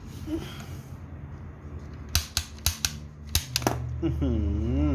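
A cheap toy rubber-band gun fires in a quick run of sharp, close snapping clicks, with someone talking before and after the shots.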